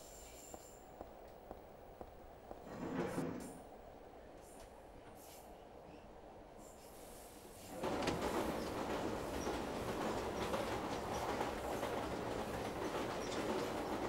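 Subway train ride in the video game Silent Hill 3. Quiet ambience with faint clicks gives way to a low rumble, then a loud, continuous rolling clatter of the moving carriage that carries on to the end, with no voices.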